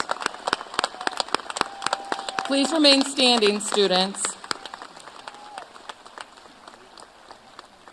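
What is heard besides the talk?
audience applause for graduates entering the military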